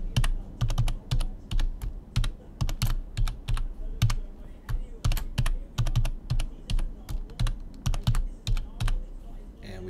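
Fingers type a wallet password on a computer keyboard, a quick run of sharp, close key clicks in uneven bursts with short pauses between them, heard alone and clearly up front.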